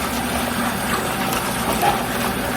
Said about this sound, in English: I'm gonna run some cool water in it, not really warm.